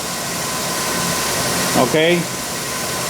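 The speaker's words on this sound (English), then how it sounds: "The engine wanna stall on me, I kill it." A car engine idles roughly as if about to stall, a steady broad hum with a faint low drone, while someone speaks briefly over it near the end.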